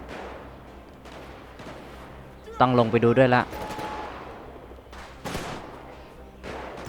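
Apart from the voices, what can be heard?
gunfire in a video game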